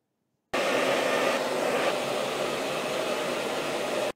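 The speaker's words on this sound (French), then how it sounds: "j'adore le sèche-cheveux dans la gueule" A hair dryer blows a steady, loud broadband whoosh for about four seconds after a brief silent start, close to the microphone and with no voices.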